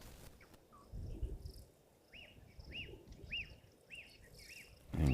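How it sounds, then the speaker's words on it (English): A puffback repeats a short, clicking whistled call about five times in a steady rhythm, faint and a little distant, over soft outdoor rustling and insect chirps. "And just hear puffback calling there too."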